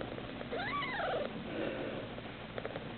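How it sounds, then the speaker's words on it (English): A small short-tailed cat purrs softly and steadily up close, with a brief rising-and-falling vocal chirp over the purr. "And that little teeny purr."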